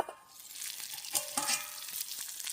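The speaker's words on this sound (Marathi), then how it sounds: "तेलावरती शिजवून घेणार आहे मासे मस्त." Chilapi (tilapia) fish frying in plenty of oil at a riverside cooking spot, a soft, close crackle and sizzle with scattered pops and no one speaking.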